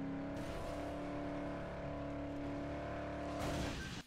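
A car engine in the Dead Island video game holds a steady droning hum with sustained tonal bands, rising slightly in intensity near the end, loud and continuous with no talk.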